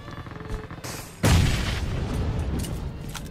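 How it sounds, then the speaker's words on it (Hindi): A thrown bomb-style firecracker goes off with one loud, sharp boom about a second in, followed by a rumbling, crackling tail, with faint background noise before it. "मैं बम फेंक रहा हूँ ऊपर मत जाना"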